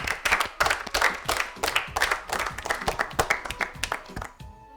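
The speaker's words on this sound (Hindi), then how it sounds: "एलिफेंट, जोरदार तालियां एक बार फिर।" A studio audience on a children's quiz show claps in a quick, rhythmic burst, loud and close, with the individual claps tapering off near the end.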